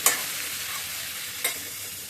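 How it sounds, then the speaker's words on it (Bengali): Taro stolons and potato stir-fried with fenugreek seeds, a steady close sizzle with two brief scraping stirs, no voices. "মেথি ফোড়ন দিয়ে লতি আলুটা ছেড়ে দিলাম, দিয়ে ভালো করে মেখে মেখে নিই"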